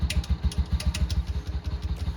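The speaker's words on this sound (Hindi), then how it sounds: "तो भाई गाड़ी तो फाइनली स्टार्ट हुई है, लेकिन रेस दे रहे तो बंद हो रही है।" A TVS Ntorq 125 scooter idles in sub-zero cold after a hard start, its engine chugging in a quick, slightly uneven pulsing rhythm, close and fairly loud with a clattery edge.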